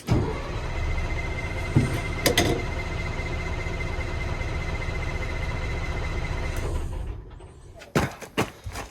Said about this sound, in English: It's cranking good now. Let's crank on it some more.